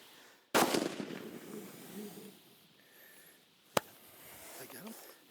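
A single rifle shot cracks out during a management hunt on the South African savannah, a sharp loud report near the start followed by a rolling echo, then a second brief sharp crack later against quiet outdoor ambience and faint murmuring.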